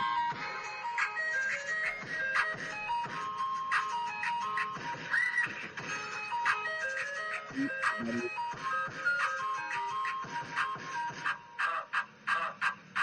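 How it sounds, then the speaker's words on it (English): An ice cream truck jingle plays as an end-of-show cue, a bright repeating melody of chiming tones carrying steadily for the full stretch without talk. "cue the ice cream truck"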